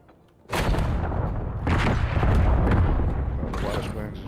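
Flashbang grenades detonate in a Black Ops search-and-destroy match, with a sudden loud blast and then a longer burst of booming, roaring noise, followed by another crack near the end.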